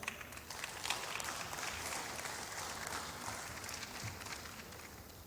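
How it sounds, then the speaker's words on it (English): At an awards and closing ceremony, faint, distant audience applause rolls as a steady wash for several seconds with no talk over it. "Please, let's applaud him."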